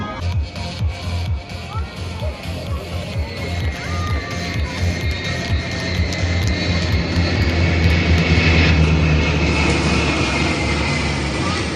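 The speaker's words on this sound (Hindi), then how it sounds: "दर्शकों, अब आपके सामने है डेकोटा DC-3 विमान, जो कि 1944 में निर्मित हुआ था।" A 1944-built Douglas DC-3 Dakota flies past at the Chandigarh air show over Sukhna lake, a loud, sustained piston-engine drone that swells as it nears, under an announcer's voice on the public address.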